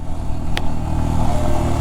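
A motorcycle on a high-altitude ride toward Puga Valley in Ladakh carrying a mounted Insta360 camera gives a steady, close engine drone with a low rumble throughout and one brief sharp click partway through.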